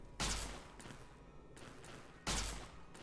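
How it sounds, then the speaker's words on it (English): Gunshots in the video game Fallout: Tale of Two Wastelands: two loud, sharp shots about two seconds apart, each trailing off into a decaying echo, with fainter reports between them. "I'll stop shooting"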